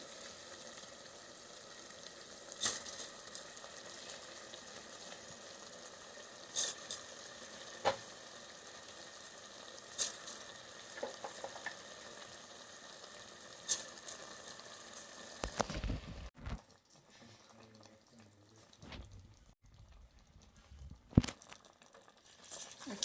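Soaked rice frying in a pan for tomato rice bath, a steady close hiss and sizzle with occasional sharp clicks of stirring, quieting to softer bubbling and scraping near the end.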